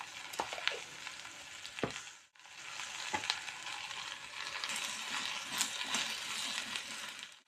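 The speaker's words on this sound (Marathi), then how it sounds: "थोडा वेळ तेलातच ठेवायची. तर आवाज येतो खालून की जरा मऊ झाली." Okra (bhendi) frying in oil in a pan, a steady close sizzle with occasional stirring clatters and scrapes, fairly quiet with no talk.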